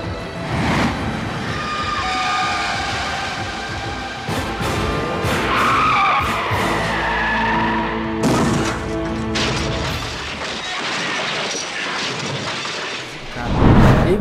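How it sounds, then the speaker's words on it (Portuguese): A truck slams into a car in a telenovela scene: loud tyre skidding and engine roar build before a heavy crash, followed by dramatic score. "Ele induziu um caminhoneiro a jogar o caminhão diretamente sobre o carro do Otávio Jordão,"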